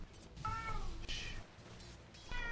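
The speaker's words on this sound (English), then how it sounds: "Background cats." Cats meow in the background of a room, giving several drawn-out mews spread over a couple of seconds, moderately loud, with no talk on top.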